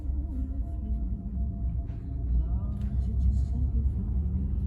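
A 2006 Lexus IS 350 heard from inside the cabin while driving, a low steady road rumble and engine drone that swells slightly midway, with a person talking over it.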